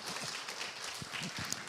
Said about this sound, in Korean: 우리 성도님들께서 사랑의 마음을 담아서 힘차게 박수로 격려해 주시고 축복해 주시면 감사하겠습니다